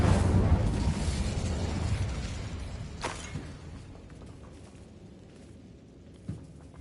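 An Incendio fire spell cast in Hogwarts Legacy, a loud whooshing burst of flame at the start that fades out over several seconds, with a couple of sharp crackling pops and a thud as it dies away.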